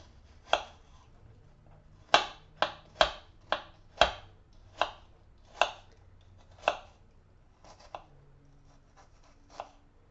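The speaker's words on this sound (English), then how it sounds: "I just slice thin slices off the side and then go across the other way" A knife dices meat for mince on a cutting board, giving about a dozen crisp, separate chops at an uneven pace, close and clear against a quiet room.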